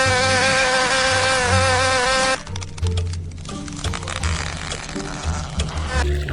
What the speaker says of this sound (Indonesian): Wow, ada seekor lalat.